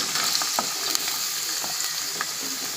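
Finely chopped onions and green chillies sizzling in hot oil in a pan, a dense close crackle with a few stirring scrapes, brief and steady with no talk.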